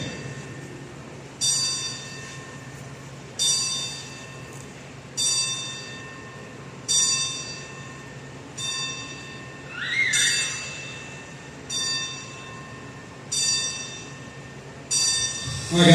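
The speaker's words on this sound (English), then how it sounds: "we're going to do the 10 bell salute for Thug and Chris Thunder Anderson." A ten bell salute in a wrestling ring: a bell struck ten times in a slow, even rhythm, each ring clear and fading before the next, with faint crowd murmur beneath.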